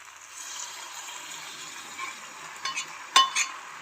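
Pasta is stirred into a white sauce in a pan, giving a steady soft scraping and sizzling hiss throughout, with a couple of light clinks toward the end.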